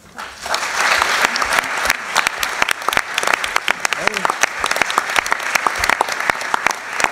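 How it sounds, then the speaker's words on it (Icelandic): A lecture-hall audience at a public talk on teachers and society applauds warmly after a speech, with dense, sustained clapping filling the whole stretch and a faint voice underneath. "Þakkum Jóhönnu kærlega fyrir og Jón Atla líka"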